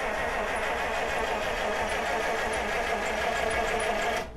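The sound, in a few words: 1948 Buick Roadmaster engine cranking, trying to start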